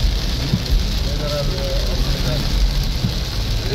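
Steady heavy rain hisses across the whole spectrum with a low rumble underneath, constant and loud throughout, in Cabiao, Nueva Ecija.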